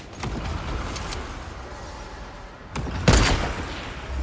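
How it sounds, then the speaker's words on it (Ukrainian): Fortnite video game gunfire comes as a few scattered sharp shots over a steady game soundscape, with a louder burst near the end. "У, стріляють, стріляють, стріляють."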